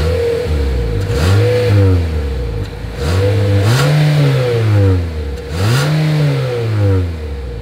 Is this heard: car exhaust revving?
yes